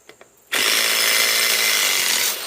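A Ryobi 4-mode impact driver, running on a new 8 amp 21700 battery, drives out fasteners. After two faint ticks it starts suddenly into a loud, close, continuous hammering whir that lasts about two seconds.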